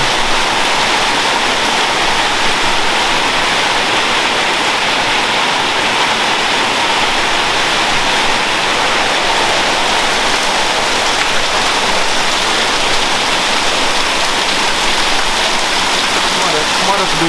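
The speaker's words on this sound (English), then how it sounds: "so far we've had about 30 millimetres of rain" Heavy rain pours steadily onto a roof and a construction site with brick and concrete work, forming a loud, constant, unbroken hiss with no pauses.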